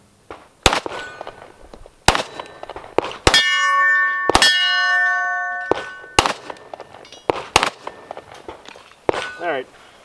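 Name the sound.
Sig Sauer P320 X-Ten pistol shots ringing steel targets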